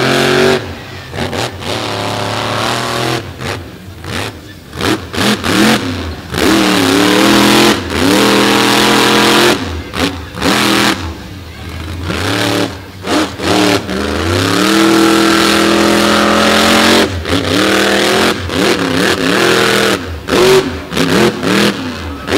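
Monster trucks at a beach show roar loudly, engines revving up and down in repeated bursts with sharp pitch sweeps and brief gaps, close and dominant throughout with no talk.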